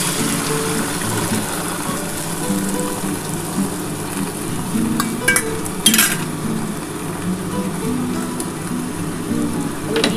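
An egg fries in a pan beside cooked Maggi noodles and onion, giving a steady soft sizzle with a few brief brighter crackles near the middle, and nobody speaks.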